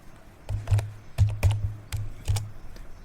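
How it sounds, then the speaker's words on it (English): Several crisp keystrokes tapped on a laptop keyboard, close and clear, in an irregular quick rhythm of about eight taps ending on one firmer press, with no talking. "we need to type exit and hit enter"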